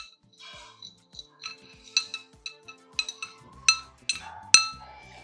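A spoon clinks against a bowl while turmeric powder is stirred into a face pack with curd, giving irregular light taps and scrapes, close and clear, in a quiet room.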